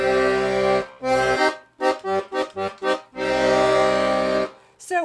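A Hohner student piano accordion's bass buttons play sustained chords, a long held chord followed by several short rhythmic stabs, then another long chord, loud and close.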